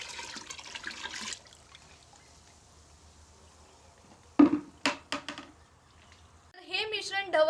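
Cow urine poured into a large drum of water mixed with cow dung for making jeevamrit on a farm, a brief liquid splash and pour amid quiet outdoor background, with short bursts of nearby sound and talk afterward.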